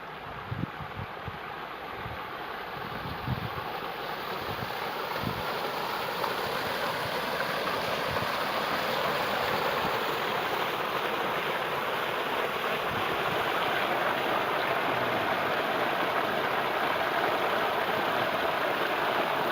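Water gushing at high pressure from the outlet of a solar-powered 5hp submersible pump drawing from a dam: a loud, steady, broadband rushing roar, continuous and close, with faint low thuds early on and no talk.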